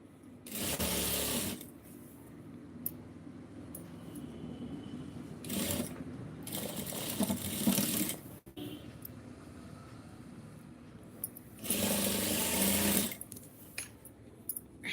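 Overlock sewing machine stitching fabric: three loud bursts of fast mechanical whirring, close, separated by quieter handling and clicking as the cloth is moved, with no talk.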